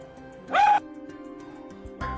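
A dog named Hanwoo, being worked with by a trainer, gives one short, sharp yelping bark that rises into a whine, then goes quiet before a faint second sound near the end.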